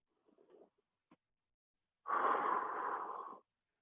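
A single deep breath during a workout class, filling the belly and ribs: a couple of faint soft puffs, then one long, loud, airy exhale of about a second and a half, close to the microphone.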